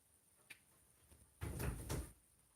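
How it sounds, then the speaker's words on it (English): A door being rattled and pulled at hard from the other side, a muffled thumping and shaking burst of about a second after a couple of faint knocks, heard at a distance in a quiet indoor room. "She is literally trying to rip the door down."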